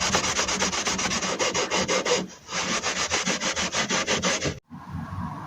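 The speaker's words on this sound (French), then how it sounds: "on commence avec le nettoyage du plafond" A sponge scrubs the ceiling lining of a Citroën C3 in rapid rhythmic back-and-forth rubbing strokes, close and steady. There is a brief pause partway through, and the scrubbing stops abruptly near the end.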